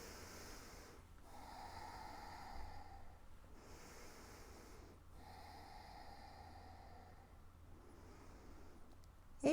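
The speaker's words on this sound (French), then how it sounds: "Nous allons faire quelques respirations profondes." Slow, deep breaths during a sophrology relaxation session: three long, audible inhale-and-exhale cycles, close and soft, each separated by a brief quiet pause.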